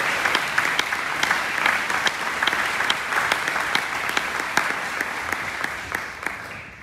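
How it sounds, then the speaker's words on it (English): A club meeting audience gives a sustained round of applause for students, many hands clapping densely and evenly, tapering slightly at the end. "Maybe one more round of applause for everybody."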